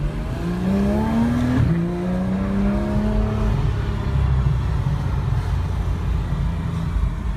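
A 2015 Porsche 911 GT3 engine revs up with a rising pitch, shifts gear, and climbs again into a loud, steady roar close by.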